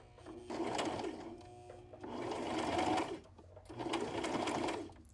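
A sewing machine runs in three bursts of rapid stitching, each lasting about a second, separated by short pauses, close and fairly quiet.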